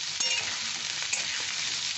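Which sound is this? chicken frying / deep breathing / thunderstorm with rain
chicken frying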